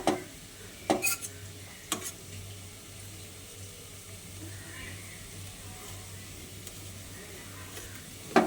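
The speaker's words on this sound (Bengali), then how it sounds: "এবার এটাকে খুন্তির সাহায্যে এরকম ছোট ছোট পিস করে নিচ্ছি।" A spatula cuts a cooled potato and chana dal dhoka into small pieces, giving a few sharp taps and scrapes against the pan up front, followed by a low, steady background hum.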